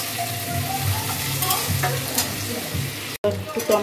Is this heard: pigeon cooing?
no